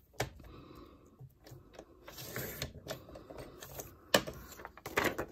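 A paper trimmer slicing planner insert paper, with irregular close clicks, taps and short scraping slides of the blade, a few sharper snaps near the end, no talking.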